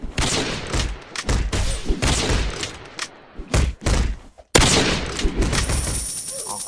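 Video game gunfire rings out in rapid, loud bursts of shots and thuds, pausing briefly before resuming with heavy blasts and ringing tones.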